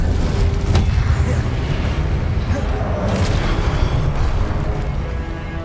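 An Incendio fire spell is cast in Hogwarts Legacy, giving a dense, roaring burst of flame with a low boom that rumbles on through the whole stretch inside loud game combat.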